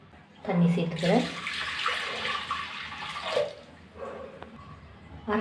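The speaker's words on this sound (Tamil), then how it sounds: "தண்ணி சேர்த்துக்கிறேன்." Water pours into a pot of toor dal for tomato dal, a splashing, rushing stream that swells and fades over several seconds.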